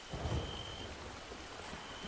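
Steady rain with a low rumble of thunder in the Moonlight Peaks video game, a soft continuous patter with a brief deep roll near the start and no talk.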